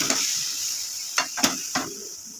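Chicken simmers in a pan after water is added for a biryani, giving a steady hiss of sizzling with a few brief stirring scrapes and clinks against the pan.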